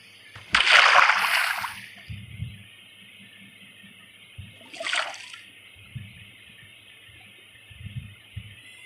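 Water flowing and splashing as a block of water is placed in Minecraft, a bright rushing burst at the start, then a shorter splash midway, with faint low thuds between, no talking.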